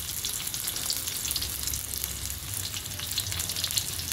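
Spinach stir-frying in a pan with a little oil gives a steady, close sizzle throughout, with faint crackles and no voices.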